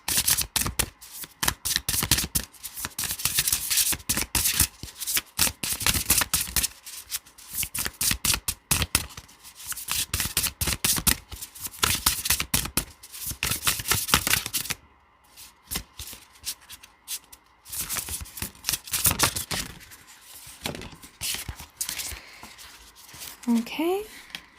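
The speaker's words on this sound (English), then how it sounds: "So let's pull here the Divine Abundance Oracle cards." Divine Abundance Oracle cards are shuffled by hand in long, close, crisp riffling bursts with short pauses between them, and a voice speaks over parts of it.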